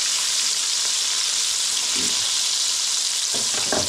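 Catfish fillets in Cajun or beer-batter coating sizzle and fry in a pan with a steady, loud crackle, broken by a couple of brief clatters as pieces are turned over.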